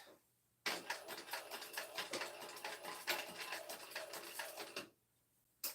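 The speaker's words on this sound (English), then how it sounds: "I'm just going to sew a quick little square on this end." A sewing machine stitching a small square onto webbing runs in a quick, steady burst of rapid clicking needle strokes for about four seconds, starting and stopping abruptly against a quiet background.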